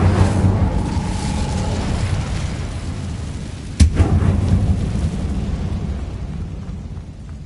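An Incendio fire spell cast in Hogwarts Legacy: a rumbling, roaring burst with a sharp crackling hit partway through, then a sustained fiery rush that slowly fades.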